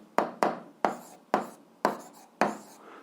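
Pen or chalk writing out an 8th-grade algebra exercise: six sharp, separate scratching strokes at uneven intervals, close and fairly quiet, with no talking over them.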